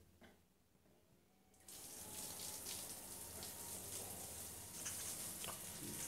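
Shower water suddenly starts gushing through a micro hydro generator after a quiet moment, then runs as a loud, steady hiss and spatter until the end.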